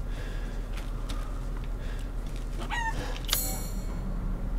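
Chickens cluck and a rooster crows faintly amid a steady low ambient hum in Resident Evil Village, short scattered calls at moderate distance with no talk.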